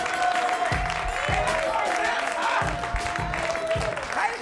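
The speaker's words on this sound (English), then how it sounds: "Big round of applause for Matt Drufke." Audience applause and cheering for a comedian at a Chicago comedy show, a dense, steady wash of clapping with a few low thumps and a sustained tone running through it.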